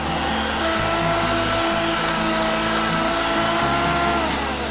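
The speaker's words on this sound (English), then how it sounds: "Now we're just going to stop our mixer for a second." An electric mixer runs at high speed, whipping a sweet potato tart mixture with a loud, continuous motor whine. The drone holds steady throughout, shifting slightly in pitch as the beaters move through the bowl.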